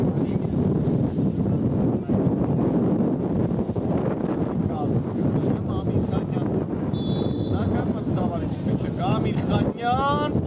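Gusty wind buffets the microphone at a football match in Yerevan, Armenia, a constant low rumble running the whole time with crowd and whistle sounds faintly audible beneath it.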